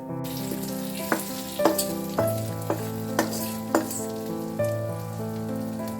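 Tarka spices sizzle and crackle in hot oil in a pan for curd rice, a steady frying hiss with light stirring taps and sharp pops scattered throughout, close, with a faint steady hum behind.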